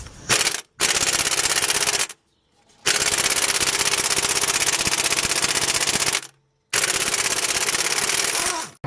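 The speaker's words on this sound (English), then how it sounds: "Next I need to remove the crank bolt," An air impact wrench rattles loudly in long continuous bursts while removing a 22mm crank bolt from an engine, three sustained runs separated by short silent pauses.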